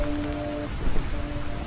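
A rainstorm in an animated fairy-tale cartoon comes through as a dense, steady wash of rain noise with soft sustained musical tones over it, brief and without speech.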